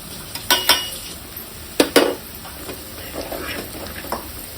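A metal spoon stirring turmeric and masala into cooked onions in a pan, with a few sharp scrapes and clinks against the pan over a faint sizzle and no talk.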